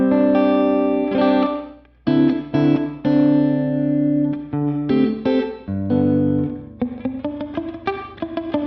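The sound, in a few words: guitar plate reverb, low decay setting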